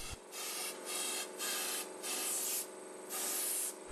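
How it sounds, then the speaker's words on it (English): A wire brush scrubs residue out of a drilled hole being prepared for a chemical anchor, with close, rhythmic back-and-forth scratchy strokes in about six bursts and no talking. "This needs to be removed with a wire brush."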